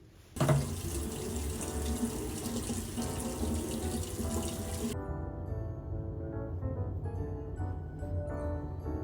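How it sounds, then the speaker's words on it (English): A bathroom tap runs into a sink for face washing during a London hotel layover, a steady close hiss of water that cuts off partway, leaving faint drips and room tone. "time to wash my face and take a nap"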